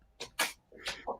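A short, sharp sneeze bursts out fairly close by, followed by a second softer catch of breath, the pair of bursts breaking into an otherwise quiet indoor moment.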